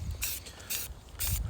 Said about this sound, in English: Go over with the second coat. I'm gonna go through and spray the shit out of that.